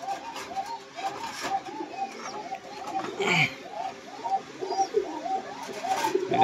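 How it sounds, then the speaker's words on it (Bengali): A female Rajshahi local giribaz pigeon calling in a coop, a rapid series of rolling, repeated coos up close, with a brief voice and some rustling in the background. "মাদি ডাকছে, ও আসলে আনন্দ পাইছে"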